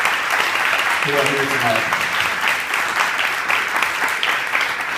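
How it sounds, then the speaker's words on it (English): An audience applauds runners and their supportive families at an evening marathon-related event, a sustained wash of clapping while a speaker talks over it. "Round of applause for all the runners and the supportive family members"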